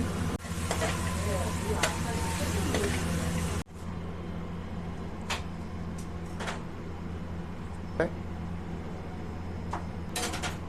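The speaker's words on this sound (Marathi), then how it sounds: "पापलेट आणि सुरमई या ठिकाणी फ्राय होती आहे" Pomfret and surmai fish fry in a pan at a seafood restaurant in Kothrud, a steady close sizzle that softens partway through, broken by occasional sharp clinks and bumps from the kitchen.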